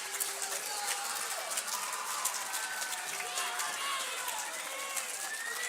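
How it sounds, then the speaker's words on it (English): Audience applause for a group of 7th graders at a junior high academic awards ceremony, steady dense clapping mixed with crowd noise and chatter throughout, fairly loud and continuous. "I'd like you to give them a round of applause"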